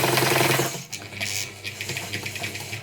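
A Singer 190 sewing machine motor runs at full speed with a loud, close whir. It then eases off into a lower, uneven clatter as the machine slows.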